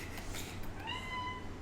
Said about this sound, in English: He's a cat.